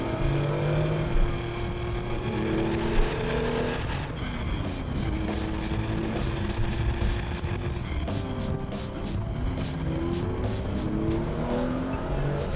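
A 1973 Porsche 911 2.7 RS engine driving, a steady, throaty flat-six drone with rising and falling revs and gear changes, close and continuous throughout with no talk.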